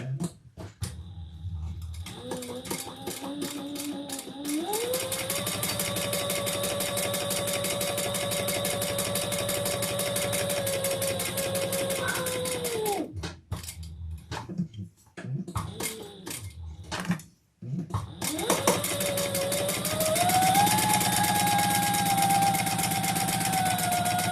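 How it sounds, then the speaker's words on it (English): A sewing machine stitches down the long edges of a sewing project in long, steady runs with a whirring motor hum that pauses briefly a few times before starting up again and running faster toward the end. "let's stitch down the long edges"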